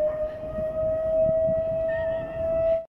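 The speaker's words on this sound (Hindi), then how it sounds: "सहरी कर ली और सायरन भी बज गया" A civil defense siren sounds the end of sehri, a loud, steady single-pitch wail held for nearly three seconds before cutting off abruptly.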